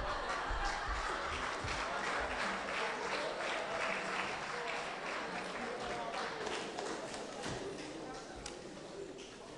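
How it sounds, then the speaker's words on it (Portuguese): Sustained audience applause at a bailinho folk dance performance in Porto Judeu, dense clapping from a crowd that keeps going at full strength and tapers slightly toward the end. "uma salva de palmas"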